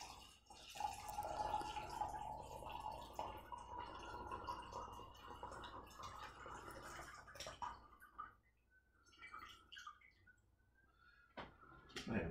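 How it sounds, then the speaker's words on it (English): Hot water is poured from a kettle over tea leaves in a gaiwan, a quiet trickling stream that runs for several seconds, then breaks into a few scattered drips and small clinks near the end. "So I'm going to place our water over top of this."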